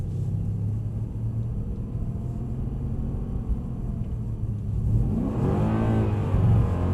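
A Mercedes power sliding on a driving track: a loud, steady engine rumble with tyre roar that swells and rises in pitch toward the end, close and continuous.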